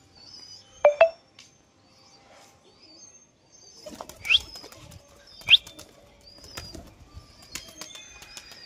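A released pigeon bursts into flight with a quick flurry of wing flaps, followed by further flapping bursts and scattered clicks, fairly close in a quiet outdoor setting.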